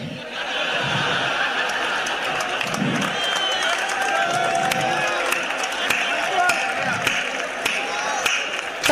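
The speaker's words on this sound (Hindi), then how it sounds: "ताली गलत जगह बजा दी।" At a Hindi comic poetry gathering in Indore, an audience claps in a dense, crackling wash that runs throughout, mixed with murmuring voices and a few louder thuds.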